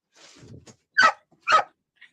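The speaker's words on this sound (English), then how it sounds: "if I'm right about what Jack is barking about" Jack the dog lets out two sharp, loud barks close by, spaced about half a second apart, preceded by a soft low whimper or grumble in a quiet room.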